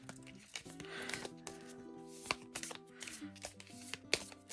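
Oddly shaped oracle cards being shuffled by hand, a quiet run of crisp papery riffles and taps with no talking.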